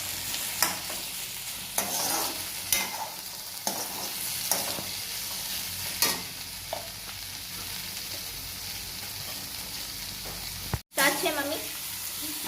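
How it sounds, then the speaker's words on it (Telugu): Potato curry with tomato frying in a pan, a utensil stirring it in repeated scraping strokes over a steady close sizzle, with one short sharp knock near the end. "టమాటో వేసినాక మంచిగా కలపాలి"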